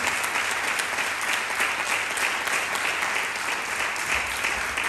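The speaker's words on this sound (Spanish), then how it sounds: "un aplauso para el batería" A theatre audience at an end-of-year music school gala applauds the drummer, a dense, steady wash of clapping that holds at even loudness for the whole stretch.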